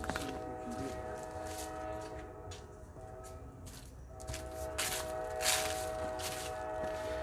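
A train rumbles steadily some distance away, with a faint horn-like tone and scattered nearby scuffs and clatter over the low, continuous drone.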